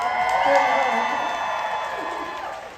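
Convention audience at a Supernatural fan event in Chicago cheering and whooping loudly, a dense sustained crowd roar that swells early and slowly tapers off.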